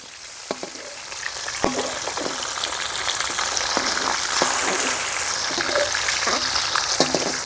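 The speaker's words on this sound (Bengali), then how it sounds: "ইলিশ মাছগুলোকে ভেজে নেব" Pieces of hilsa fish fry in hot oil, giving a steady loud sizzle punctuated by repeated clinks and scrapes of a utensil turning them, close by with no talk.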